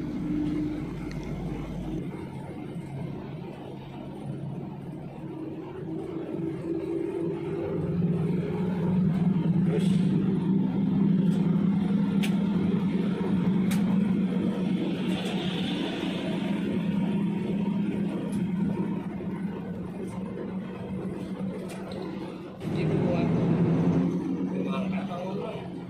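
A bus on the southern route moves between two trucks, a low steady engine rumble and road noise running throughout beneath someone talking, with a few brief clicks.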